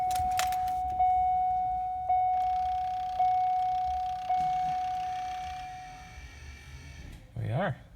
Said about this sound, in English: So I'm going to throw the key in the ignition.